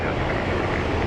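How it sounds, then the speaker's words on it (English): A Boeing 777 airliner at Phoenix Sky Harbor airport gives off a loud, broad, steady roar of engine noise with wind rumble throughout. "Dude, the 777 is a cool plane."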